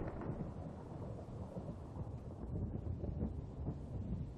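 Rumbling thunder from a lightning strike in the Minecraft video game, a steady dense low roar with rain-like hiss throughout, fairly loud and continuous with no talk over it.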